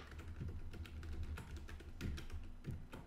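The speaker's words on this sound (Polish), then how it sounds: "Muszę sobie hasło ponownie wprowadzić, ponieważ zostało wpisane niepoprawnie." Someone types a password on a computer keyboard under Arch Linux, a steady, quiet run of close key taps with no talking.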